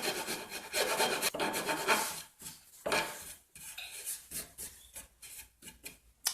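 A sanding block scrapes over the wooden neck of a handmade cigar box guitar while the heel is shaped. Quiet, rasping back-and-forth strokes repeat in an uneven rhythm, close by, with no voices.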